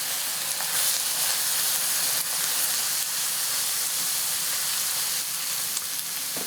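Apple and onion stuffing sizzles and hisses steadily in a hot pan, with a constant bright frying crackle and occasional soft stirring scrapes.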